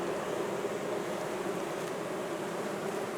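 Purebred Carpathian honey bees buzz steadily at their hive in an apiary, a continuous soft drone of many insects with no pauses, fairly faint and without talk.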